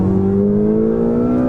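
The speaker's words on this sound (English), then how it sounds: "whereas it's different in the Porsche, the Mercedes, where they try and dumb down the interior exhaust note, Ferrari have upped it." A Ferrari 488 GTB engine and exhaust drone heard from inside the cabin, a loud, steady tone whose pitch rises gradually as the car accelerates, with no talk.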